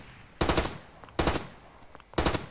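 Three loud bursts of rapid automatic gunfire from the video game Far Cry 2, each lasting about a quarter second and evenly spaced, with quiet pauses between them.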